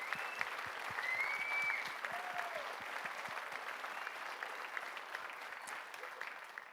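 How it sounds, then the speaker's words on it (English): Applause from an audience at a celebration for a young women's dance team, a steady wash of many hands clapping that swells early and then holds, with faint crowd murmur beneath and no one speaking. "So one more round of applause for these amazing young women."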